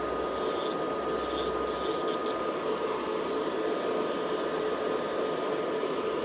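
A nail drill with an emery bit files a fingernail during nail preparation, a steady even grinding rub that runs unbroken throughout, close and moderately loud with no voices.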